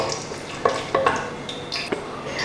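Cloves, cardamom, cinnamon and a bay leaf sauté in hot coconut oil, a soft sizzle punctuated by several sharp scraping stirs and clinks of a spoon against the pan, close and brief, with no voices.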